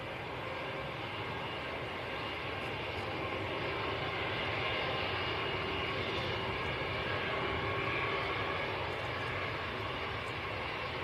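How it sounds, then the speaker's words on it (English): Brussels Airlines Airbus A320neo touching down at Manchester Airport, a steady broad roar of engine and rushing air held at an even, moderate level, heard from a distance with no voices. "Nice aircraft just touching down"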